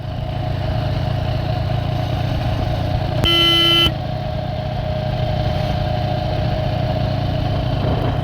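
A car cruising on a highway between Pandharpur and Akkalkot, with a steady loud engine and road rumble throughout and one horn blast partway through. No voices.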